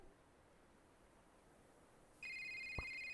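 A cell phone rings in a cute video game, a bright electronic tone starting abruptly after a quiet hiss and holding steady to the end, with a brief thump.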